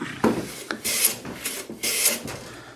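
A razor-sharp hand plane blade taking super fine wood shavings, three quick rasping strokes in a loose rhythm, close and fairly quiet with no talk.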